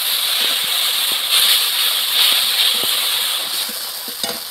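Spice paste of ginger, cumin, dried red chilli and coriander fries in a pan with water for a mango and snakehead fish dish, giving a steady loud sizzle and hiss with faint stirring taps throughout.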